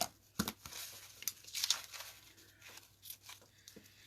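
Soft paper sounds close by: a few crisp snips and crinkles of a thin coffee filter being cut with scissors, irregular and quiet.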